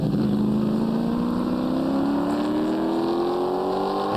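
Group S race cars lapping at The Bend, a loud continuous engine drone with pitch climbing steadily as a car accelerates, steady and close throughout.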